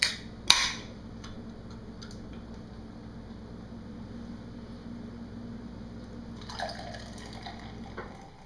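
A can of Natural Ice beer cracks open with one sharp, close pop and hiss, then a faint fizz of bubbling settles under quiet room tone, with a soft rustle near the end.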